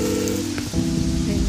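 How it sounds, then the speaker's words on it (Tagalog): Rain falls steadily in a continuous patter, heard close and fairly loud, with a background music bed running underneath. "naulan na po siya guys"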